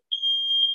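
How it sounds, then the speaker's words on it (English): A household smoke alarm sounds a single sustained high-pitched electronic tone, clear and steady for under a second. "I don't know why my smoke alarm's going off."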